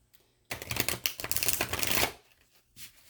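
A stiff, rapid riffle of tarot cards being shuffled for about a second and a half, then a brief softer shuffle after a pause.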